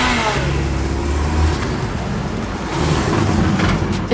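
A car engine revs and accelerates away hard, a loud, close roar with surging pulses and no talk over it.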